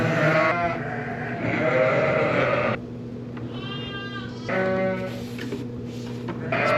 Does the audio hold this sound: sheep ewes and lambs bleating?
yes